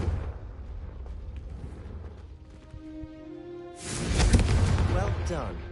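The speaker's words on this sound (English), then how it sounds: "Confringo." Confringo, the explosive spell from a Harry Potter video game, is cast: after a stretch of low rumble and steady musical tones, a sudden loud, fiery blast bursts out and roars on for about two seconds before easing off.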